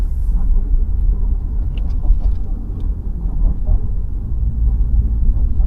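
A Toyota Hilux pickup drives a rough, bumpy road in central Chiang Mai, giving a steady, loud low rumble of engine and road noise with faint rattles and thumps throughout.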